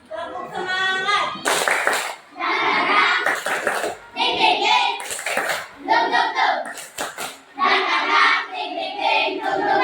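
Children in a classroom clap a rhythmic tepuk semangat cheer in loud bursts, chanting along between the claps.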